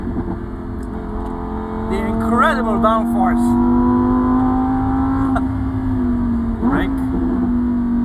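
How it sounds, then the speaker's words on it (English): A Lamborghini Huracan STO accelerating on a race track, heard from the cockpit as a sustained engine drone rising gradually with brief revving blips, while a person talks over it. "you can hear the engine in the back. Oh, the noise is just amazing."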